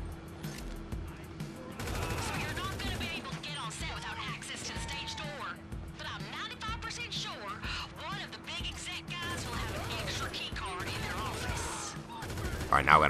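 Rapid bursts of gunfire from GTA 5 Online on Xbox Series X crackle in the Bottom Dollar Bounties mission. The firing comes in repeated volleys throughout, with a player talking over it and background game music underneath.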